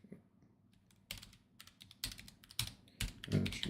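Fingers type on a computer keyboard during a cybersecurity exercise, a close, quiet patter of key clicks that quickens into louder bursts toward the end.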